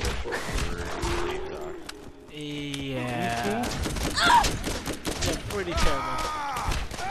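Starting-weapon SMG fire in the video game Borderlands, bursts of gunfire mixed with game effects and a groan, with someone talking over it.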